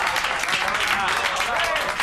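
A short burst of dense applause from a studio audience at an awards nomination, many hands clapping loudly together without a break, with crowd voices mixed underneath.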